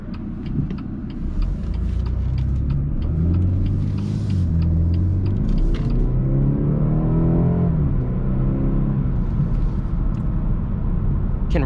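A 2018 BMW 230i xDrive drives and accelerates, its engine rumble rising and falling steadily and loud throughout, with a clear pitch sweep as it revs up mid-run.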